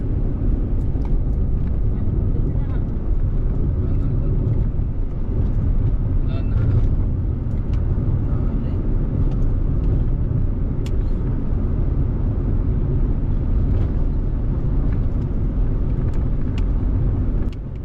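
Steady low road rumble of a vehicle driving along the Tayabas Bypass Road in Quezon, continuous and unbroken for the whole stretch, with tire and engine noise filling the low end.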